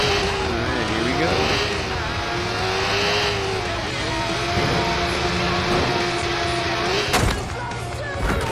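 A motorbike engine revs and drones as it launches into a jump in Watch_Dogs, its pitch rising and dipping steadily, loud and close, ending with a sharp clatter.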